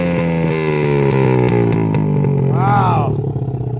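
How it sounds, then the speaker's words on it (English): A Honda CRF50 dirt bike engine drones loudly close by, then revs up in a rising whine and drops back with a sputtering pop. A voice talks under the engine noise. "Let's hear a rev. Get a big pop."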